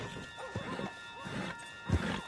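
Horse in a Western-style video game, a couple of short neighs and snorts with faint hoof clatter and a steady low ambient hum behind.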